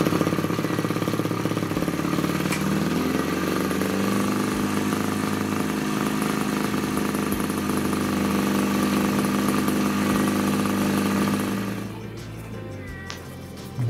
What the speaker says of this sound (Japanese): 一旦エンジンをかけて様子を見ます